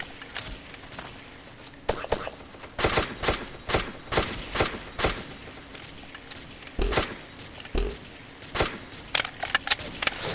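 Bursts of gunfire in the blocky shooter game Ace of Spades, sharp cracking shots fired in quick repeated volleys at a steady rhythm, with a few single shots between and people talking quietly underneath.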